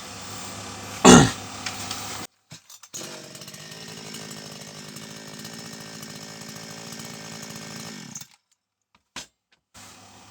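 A Kitprom gasoline chainsaw runs after a carburetor repair, starting with a sharp loud burst, then idling in a steady buzzing drone for several seconds before cutting out, with a brief restart blip near the end.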